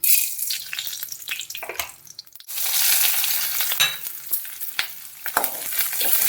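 Chopped onions fry in hot oil in a kadai, giving a loud, close, continuous sizzle and crackle with scraping stir noises and a brief dip partway through, no voices.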